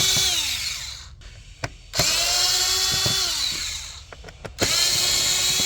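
A power driver with a Torx 25 bit whirs in bursts while backing out screws on a Mercedes GLE/GLS air filter housing, two long high-pitched runs and a shorter one at the end, each rising and falling with a brief pause between.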